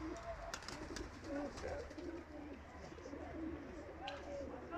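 Flocks of chased homing pigeons coo in low, rolling bursts that repeat close by over a steady outdoor rumble, with a voice faintly in the background.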